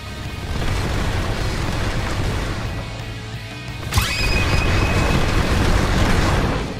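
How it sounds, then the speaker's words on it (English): The Tiger fruit move in a video game ends in a fiery shockwave: a rumbling barrage builds into one sharp booming blast midway, followed by a loud roaring, crackling rush. "Dash in with the crazy barrage and it ends with the fiery shockwave"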